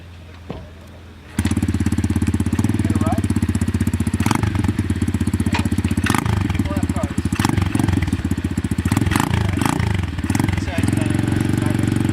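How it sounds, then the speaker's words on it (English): Mazda Miata engine with a loud exhaust starts up after a quiet moment and runs at a rough, throbbing idle close by, a steady rumbling drone with some clatter and thumps, and a voice speaking under it. "The truck's been good, the Miata run great. You've seen Jesse, he's happy even though the exhaust is really loud."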